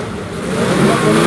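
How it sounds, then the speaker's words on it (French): Alpine race car pulling away at a historic hill climb, its mid-pitched engine rising steadily in a brief, fairly close rev with no talk. "Et c'est parti pour Bruno Lacroix sur l'Alpine"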